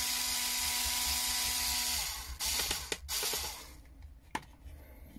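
Power screwdriver tightening screws to fix an electrical box into a side cabinet of a VW T5 Transporter camper conversion, a loud sustained whir that stops after two seconds, followed by lighter clicks and handling noises.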